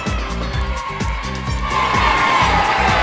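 The crowd at a Lucha Extrema wrestling show cheers and applauds the wrestler Musambe Tutu. Shouts and clapping swell over a pounding, rhythmic low beat and grow louder toward the end.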